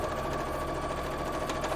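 A sewing machine runs continuously while stitching a dress lining, giving a close, even mechanical hum with a fast regular needle rattle and no pauses or voices.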